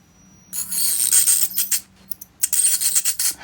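A dental tartar-removal device vibrating against teeth, producing close, bright buzzing bursts that start and stop irregularly, with brief gaps between passes.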